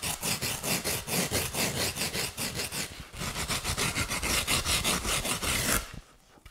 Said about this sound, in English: We have the basic filing completed.